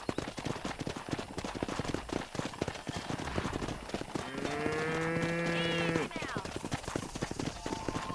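Cattle being herded along a road in the Red Dead Redemption video game, one long, loud moo rising and falling in the middle over steady trotting hoofbeats and rustling ambience.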